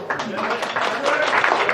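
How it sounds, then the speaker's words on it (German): A live audience applauds as artist Thomas Wirtz is welcomed onto the stage at a variety show evening in the Stapelhaus, a steady wash of clapping with cheering voices mixed in throughout. "Großen Applaus."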